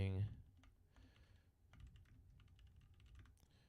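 Fast typing on a computer keyboard, close and quiet, with a steady stream of soft key clicks after a brief low thump at the start.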